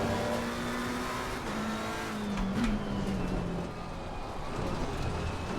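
Race cars in Assetto Corsa Competizione drone and wail in a close pack, one engine's pitch sliding as it revs and shifts among the steady roar of others nearby.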